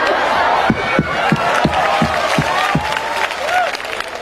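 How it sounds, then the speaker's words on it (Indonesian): A congregation claps in a steady rhythmic beat, the claps regular and close together, over a crowd backdrop with some shouting voices. "Tadi kita tepuk tangan"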